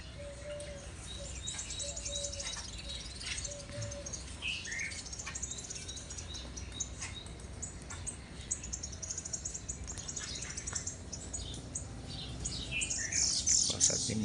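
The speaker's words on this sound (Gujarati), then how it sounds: "જોયા આયા આપણે ઘણી બધી જાતના પક્ષીઓ. જો કાબર છે, ચકલા" Mynas and sparrows chirp and call in the open, giving scattered, fairly faint tweets and short repeated notes over a low background hum.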